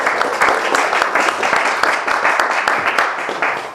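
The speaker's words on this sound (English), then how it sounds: "let's have a round of applause" An audience at an Iowa Organic Association meeting applauds, with dense, steady clapping from many hands that carries on without a break for several seconds.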